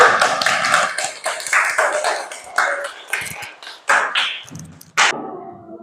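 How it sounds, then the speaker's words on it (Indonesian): Classroom applause from children during an Islamic studies lesson, a loud near burst of clapping that breaks into scattered uneven bursts and single claps before stopping. "Tepuk tangan."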